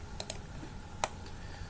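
Several crisp clicks of keys pressed on a computer keyboard, quiet and close, spaced unevenly over a faint background hum.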